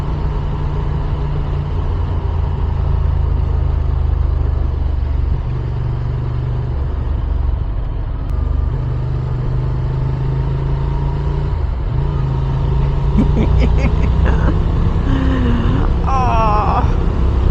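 A 2023 Benelli Leoncino 800 motorcycle being ridden, its engine droning steadily and close with gentle rises and falls in pitch, plus brief shifts near the end.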